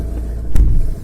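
A Fiat Doblo converted into a safari vehicle drives off-road over muddy ground, its engine giving a loud, close low rumble that swells briefly midway through.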